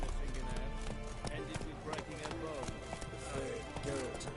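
Roach, a horse in the Witcher 3 video game, galloping with a quick, rhythmic clip-clop of hooves under game sounds and background effects, while a voice speaks briefly.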